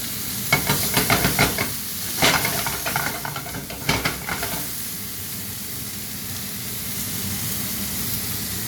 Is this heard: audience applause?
no